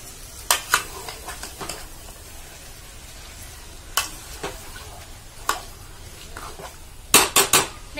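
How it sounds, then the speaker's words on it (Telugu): Chicken pieces get stirred through oil in a metal pan, with sharp spoon clinks and scrapes at irregular moments and a quick burst of clatter near the end over a faint sizzle. "పూర్తి ఆయిల్లో కలిసేటట్టుగా కలిపేసుకొని"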